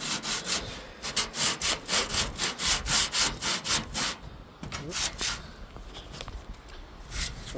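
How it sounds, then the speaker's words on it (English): A rusty appliance is sanded by hand in quick, rhythmic back-and-forth strokes that are loud and close, then a looser, scratchier rubbing follows. "I'm gonna sand over here."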